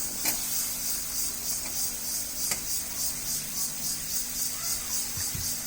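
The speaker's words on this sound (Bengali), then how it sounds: "এখন এর মধ্যে আমি যে টমেটোগুলো আছে সেটা দিয়ে দিব।" Tomatoes go into a pan of cooked-down spice paste for a chickpea curry, giving a steady, moderately loud hiss and sizzle with a few faint clinks, and no talking.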